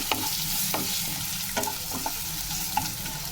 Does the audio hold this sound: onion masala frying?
yes